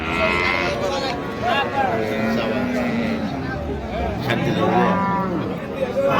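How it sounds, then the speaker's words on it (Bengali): Cattle low and moo repeatedly at a busy livestock market where a cow is sold with her calf, the calls rising over a constant crowd murmur and nearby voices talking. "গাভী বাছুর"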